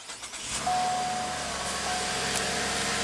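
Steady idle of a 2015 Cadillac SRX's 3.6-liter V6 just after push-button start-up, a low continuous engine hum with a faint whine running throughout, recorded close inside the car with no talking.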